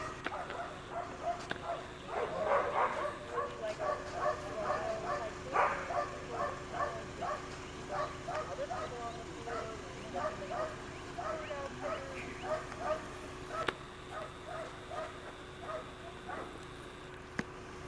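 Small dogs yip and bark repeatedly in a steady run of short calls, fairly close, with some whimpering mixed in and people talking faintly underneath.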